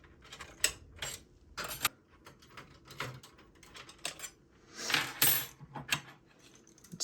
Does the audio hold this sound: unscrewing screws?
yes